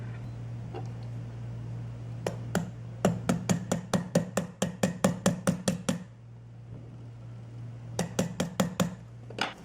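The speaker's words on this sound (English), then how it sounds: "place the thumb tack right in the hole and actually tap it with the underside of a screwdriver" Screwdriver underside tapping on a thumb tack pressed into a watch band link hole to drive out the pin: two light metallic taps, then a rapid even run of about fifteen sharp clinks, a pause, and another short burst of five, close and crisp over a low steady hum.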